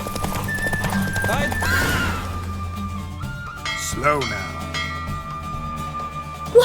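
Horse racing in The Witcher 3: Wild Hunt, with galloping hooves that slow toward a stop, a neigh partway through, game music underneath, and voices talking over it.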